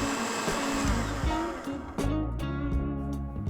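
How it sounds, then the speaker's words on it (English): A blender whirs steadily as it purées apple dessert ingredients into a smooth, creamy mixture, its motor pitch shifting and dipping slightly as the load changes, loud and close with no talk. "Now blend all the ingredients until you achieve a smooth, creamy consistency."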